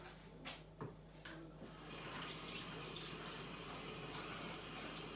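Stockfish rinsed under a running kitchen tap: a few soft handling clicks, then a steady, close rush of water splashing without a break, with no talking.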